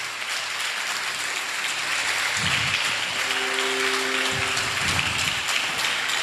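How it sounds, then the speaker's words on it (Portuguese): Church congregation applauding the name of Jesus during a worship service, a steady, rain-like wash of clapping from many hands, with a faint tone and brief low voices beneath it. "Você pode aplaudir o nome de Jesus, queridos, porque Ele merece."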